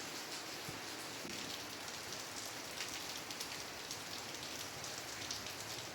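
Steady rain falls on surfaces, a dense, even hiss of countless drops with faint patters throughout and no voices.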